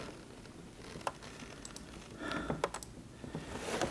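Scattered keystrokes on a computer keyboard, fumbling and irregular, with soft clicks in short bursts and a few louder taps over a faint room hiss.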